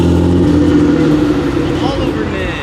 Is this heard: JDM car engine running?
yes